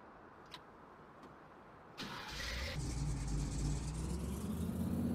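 An old Ford Bronco being jump-started on a farm: a couple of faint clicks, then the engine cranks and catches, rising into a steady, rumbling idle that continues to the end.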